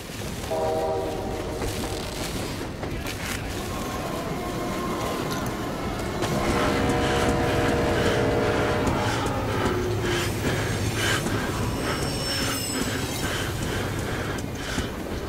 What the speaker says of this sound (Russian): в это время на заднем плане появится поезд из воздуха